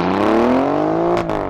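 A 2020 Alfa Romeo Giulia Quadrifoglio exhaust revs loudly up close, heard from outside the car: a strong, rising engine drone climbing steadily in pitch, then easing off briefly near the end.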